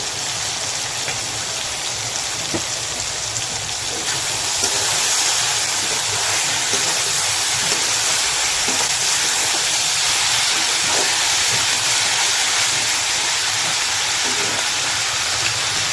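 Dried kachki fish with chopped tomato and salt fries in a pan, making a steady, loud sizzling hiss with occasional soft stirring scrapes and no voices.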